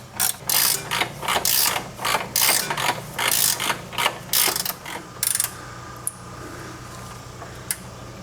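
A ratchet wrench tightens a suspension bolt during a Honda EM1 Civic Si suspension rebuild, giving a dozen or so close, rhythmic clicking strokes that stop about two-thirds through, followed by a couple of faint isolated clicks.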